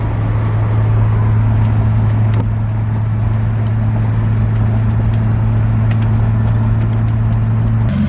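A BMW E28 535 sedan is driven on a short road trip after a cooling-system coolant flush, its engine a loud, steady low drone heard from inside the car with constant road rumble throughout.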